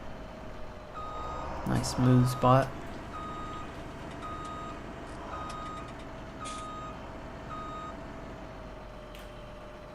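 Truck backing in within Farming Simulator 17, its reversing alarm sounding as a steady series of evenly spaced beeps under engine hum, with a brief burst of louder clatter early on and someone talking over it.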